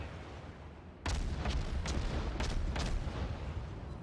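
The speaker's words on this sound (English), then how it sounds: "There is some fire incoming that missed." Incoming naval shellfire in World of Warships, a sudden heavy boom followed by a dense rumbling roar and several sharp cracking impacts as the shells land nearby and miss.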